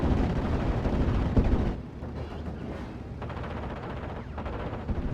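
Dense gunfire and flak bursts fill a World War II strategy game battle during a large aerial dogfight, a loud continuous barrage with a heavy thump near the start and steady crackling after.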